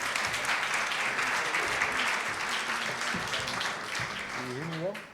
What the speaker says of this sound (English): can I get a round of applause for Peter and invite you up to the stage?